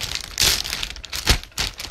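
A plastic bag crinkles and rustles up close as leftover smoothie scraps are pushed into it, with several bursts of crumpling and no talking.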